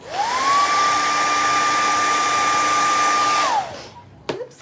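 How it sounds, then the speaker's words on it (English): A blow dryer runs loud and close, drying lavender paint on craft rain boots: a steady whirring hum that holds for about three seconds, then cuts off, followed by a couple of small handling knocks. "I'm going to hit that with the blow dryer so it dries real quick"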